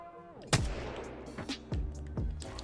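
Rapid bursts of R-301 rifle gunfire in Apex Legends: four loud, sharp reports spaced roughly a second apart, each with a booming low tail, close and unaccompanied by talk.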